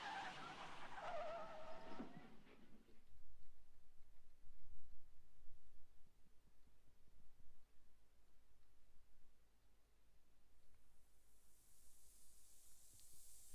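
A car in the Back to the Future video game arriving with a brief loud tire skid and hiss at the start, then settling into quiet low rumble and faint ambient noise.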